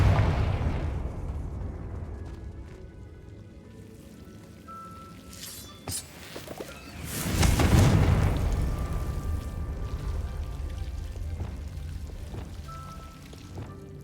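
Confringo fire spell exploding in Hogwarts Legacy, a loud booming burst midway that swells and rumbles before settling into a sustained roar, with game music and ambience underneath.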